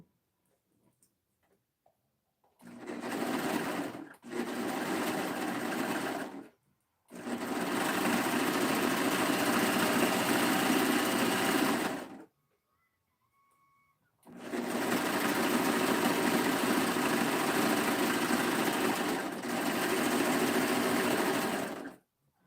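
A sewing machine runs in long loud bursts as it stitches the shoulder seam of a knit set-in sleeve. Several several-second runs are split by short silent pauses.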